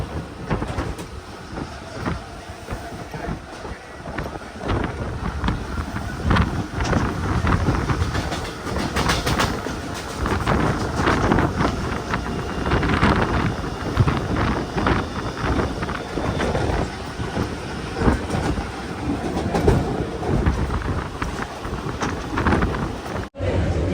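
An air-conditioned Mumbai local train rumbles along continuously, with rattling wheels and a clattering carriage that stay loud and close the whole time.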